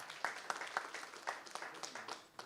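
Staff at an Asian News office celebration for Father's Day applaud an award recipient, with faint, steady clapping from a small group heard at a distance.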